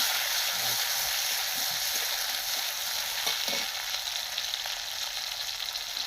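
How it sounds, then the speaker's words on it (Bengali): Green chilies and tomatoes for a puti fish curry fry in oil over a wood fire, making a dense, even, loud hiss that holds steady throughout, with a few faint low knocks beneath and no speech. "প্রথমে কাঁচা লঙ্কা দিলাম এরপর তারপরে টমাটরটা দিয়ে দিলাম"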